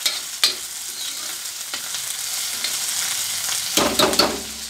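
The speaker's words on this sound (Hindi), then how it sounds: "अब मुझे अपनी प्याज को सुनहला सुनहला तलना पड़ेगा।" Two large onions frying in a pan until golden, a steady close sizzle with light stirring scrapes, then a louder clatter of the spoon against the pan near the end; no one speaks.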